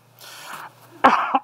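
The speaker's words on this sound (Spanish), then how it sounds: "me van a disculpar un poco, hermanos, por mi tos" A man clears his throat and coughs during a church sermon, a low rasping build-up followed by a sharp, loud cough and a shorter second cough, close to the microphone.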